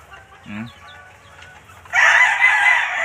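Hens and a gamefowl rooster at feeding time: soft clucking and scattered calls, then a loud, close rooster crow that fills the last second or so.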